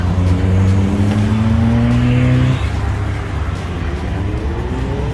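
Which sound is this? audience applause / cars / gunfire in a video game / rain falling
cars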